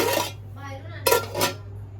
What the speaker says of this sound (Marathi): आणि तुमची भांडी पण तुम्हीच घासायची